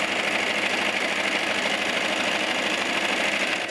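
A sewing machine runs a decorative stitch along a leggings wrap skirt, its needle whirring in a fast, even, continuous mechanical buzz close up, with no talk.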